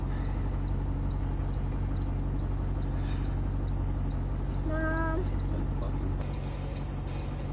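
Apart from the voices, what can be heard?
vehicle warning beeping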